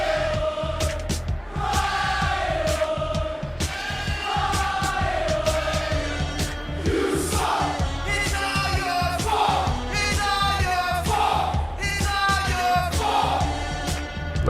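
Arena crowd at an ice hockey game between the Sarholm Crowns and Vurgos Vortex, a steady roar of shouting and jeering that stays loud and dense throughout, with higher yells swelling in repeated waves over the din.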